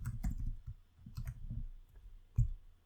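Mouse clicks on a computer during coding work, a few sharp close clicks spaced irregularly over a low background hum, with no talking.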